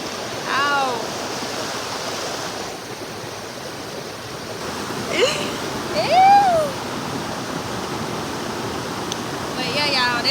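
A small waterfall rushes in a continuous broadband roar, steady and fairly loud, while a person talks intermittently over it and birds chirp faintly.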